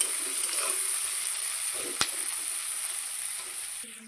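Onions frying in a pan give a steady, close hiss and sizzle with a single sharp clink partway through, continuing alone without talk.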